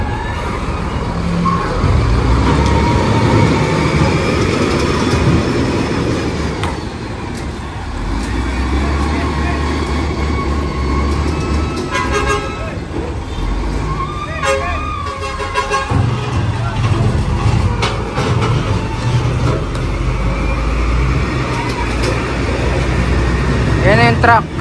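A truck rolls past on a busy city street in a steady, loud roar of engines and traffic, with horn toots and people talking nearby.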